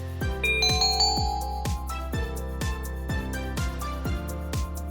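A telephone rings with a repeating electronic tone, steady evenly spaced pulses over about five seconds, loud and close with no talking.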